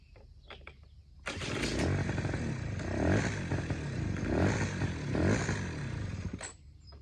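A free moped engine cranks with a few rattles, then starts and runs with a rough, loud buzzing roar that rises and falls in waves of revving before cutting off near the end, close and alone.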